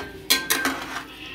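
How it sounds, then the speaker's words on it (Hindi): Spoon scraping and clinking against a pan while paneer tikka is gently stirred into gravy, three or four short metallic strokes close by, then a faint final tap. "इसे हल्के हाथ से इसे सब जगह से मिक्स कर देना है"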